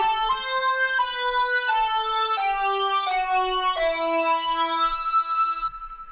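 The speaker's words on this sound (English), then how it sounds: "There's a synth lead that this also came from Zampler." A synth lead from the Zampler plugin, rendered to audio, plays a slow descending run of sustained tones, each note held about a second, clear and alone, ending in a short fade.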